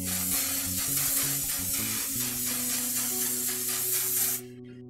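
A steady, loud hiss from a makeup setting spray bottle runs for about four seconds and then cuts off abruptly, with a low hum in the background.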